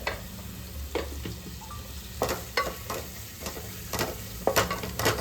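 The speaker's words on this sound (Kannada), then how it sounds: "ಸೊ ಈರುಳ್ಳಿನ ಸ್ವಲ್ಪ ಫ್ರೈ ಮಾಡ್ಕೊಳ್ಳುವ" Onions frying with turmeric in a pan for a home curry, a steady soft sizzle beneath repeated scraping and stirring strokes of a spoon against the pan, close by and with no one talking.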